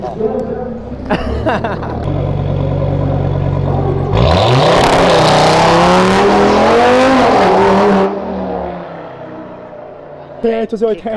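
An Audi RS3 engine roars loudly leaving a car event, revving up hard and holding a high, aggressive note before easing off, with people talking over it.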